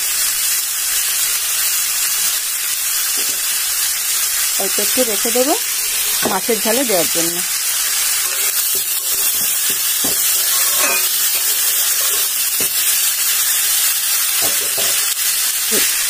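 Potatoes and onions fry in oil in a pan with a loud, continuous sizzling hiss, broken by occasional stirring, while someone talks over it.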